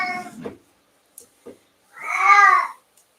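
A house cat yowls after using the litter box, giving a short call, a couple of faint clicks, then one long, loud drawn-out meow close by.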